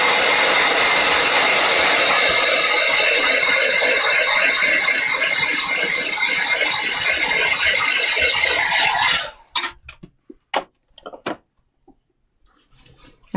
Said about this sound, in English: I'm just going to blast this dry.